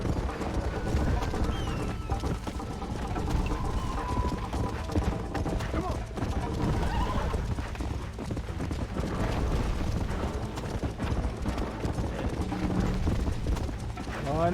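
Horse hooves clip-clop steadily in Red Dead Redemption, a continuous galloping rhythm under game music and ambience, with someone talking over it throughout and an occasional whinny.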